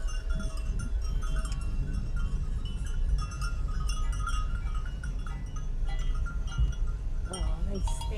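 Billy goats bleat at a roadside farm near Sami on Kefalonia, with animal calls and possible cowbell clanks over steady outdoor noise and people talking nearby.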